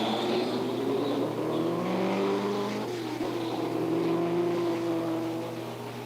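A 1967 Canadian Grand Prix racing car starts and pulls away, its engine note rising and falling through climbing revs. Heard fairly close under a steady hum, fading a little at the end.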